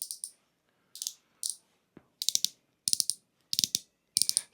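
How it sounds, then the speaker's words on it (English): A small utility knife's blade slides out and back in a series of crisp ratcheting clicks, delivered in short bursts with pauses between them, close and isolated in a quiet room. "So these are utility knives."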